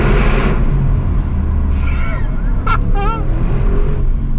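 An Audi RS7 pulls hard in first gear through a tunnel with the window down, a loud, steady engine roar filling the space throughout, with brief rising tonal whoops over the rumble midway.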